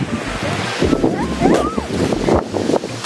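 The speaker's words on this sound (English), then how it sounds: "As you can see here, so windy." Strong wind buffets a nearby microphone with steady roaring gusts ahead of a storm, mixed with surf and water noise.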